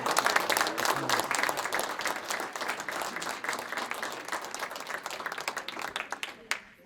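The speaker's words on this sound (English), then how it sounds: "I give you a round of applause" An audience at a town hall meeting applauds, a sustained patter of many hands that starts strong and slowly thins. A voice speaks faintly beneath the clapping near the end.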